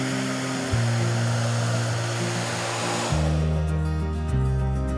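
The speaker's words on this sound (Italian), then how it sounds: "andiamo a riscaldare col diffusore con aria calda per un paio di minuti" A hair dryer fitted with a diffuser blows hot air, a steady loud broadband roar whose pitch shifts as the setting or angle changes, running continuously throughout with no voices.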